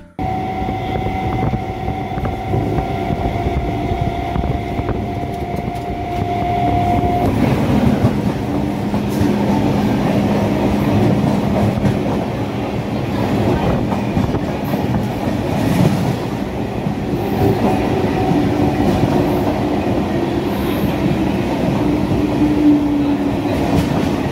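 An up Medinipur local train runs steadily with a continuous loud rumble and rattle of the carriages, broken by brief tonal squeals, and no voices are heard.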